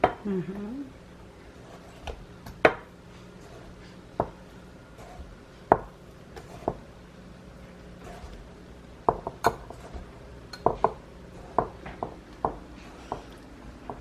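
Sugar spooned into a measuring cup during home cupcake baking, heard as sharp scattered clinks and taps of spoon against cup at irregular intervals, close and fairly quiet over a faint low hum.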